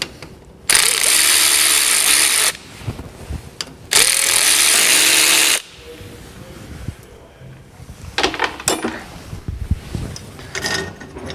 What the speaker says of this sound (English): If you just hold that with a pair of grips, then the nuts can be spun off